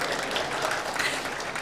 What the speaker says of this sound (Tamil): ஒரு பெரிய கைத்தட்டி முடிச்சிருங்க